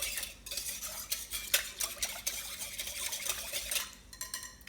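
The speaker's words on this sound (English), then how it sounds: "we're starting with the water and adding our yeast to it. And then we're mixing that nicely together" Yeast mixed into water in a bowl with quick, irregular clinks and scrapes of a utensil against the dish, close and fairly quiet, no talking.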